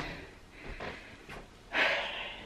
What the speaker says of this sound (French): Je suis essoufflée.